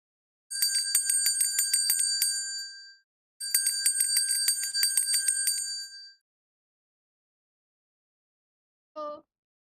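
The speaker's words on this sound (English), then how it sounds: "It was a sound of a bell ringing, a simple sound of bell." Bicycle-type bell rung in two long rapid trills of bright metallic rings, each lasting a couple of seconds, followed after a pause by one short tone.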